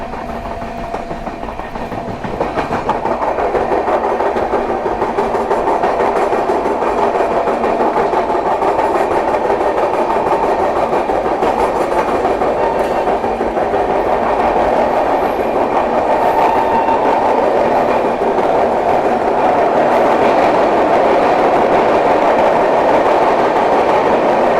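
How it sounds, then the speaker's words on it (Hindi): The Suhaildev Express runs at speed, a loud continuous rumble and roar of rails and carriages with steady clickety-clack heard from on board, sustained throughout. "बाकी ट्रेन बड़ी रफ्तार में चल रही है अभी"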